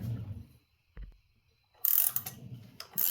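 A puller draws a harmonic balancer off its gear on a 2013 Ford Edge 2.0, giving a few close, faint mechanical ratcheting clicks and scraping metal bursts separated by quiet pauses.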